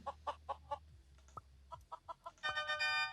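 A chicken in a school simulator video game clucks in short, clipped bursts at an even rhythm, ending in a louder, sustained crow-like call.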